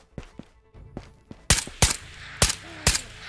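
Gunshots ring out in the shooter game Ghosts of Tabor, a few softer distant pops followed by four loud, sharp close blasts spaced about half a second apart.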